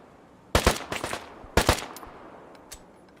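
Gunfire rings out in the Deadside video game, two sharp bursts of rapid shots about a second apart, then a faint single report trailing off.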